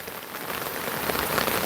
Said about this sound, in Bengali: আমাদের এখানে প্রচুর বৃষ্টি দেখতে পাচ্ছেন প্রচুর বৃষ্টি